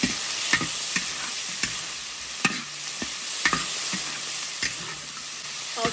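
Chicken pieces stir-fried in a wok with scallion and ginger, a steady close sizzle broken by sharp repeated scrapes and clanks of the spatula against the metal, no voices.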